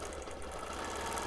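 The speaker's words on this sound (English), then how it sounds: "And just get another line of stitching in there, breaking that large area up." A sewing machine runs steadily through free motion quilting, stitching a line to break up a large area in a modern boxes pattern, a continuous mid-pitched motor whir with a rapid needle rhythm and no talking.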